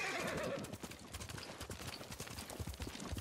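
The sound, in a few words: horses galloping, from video game Ghost of Tsushima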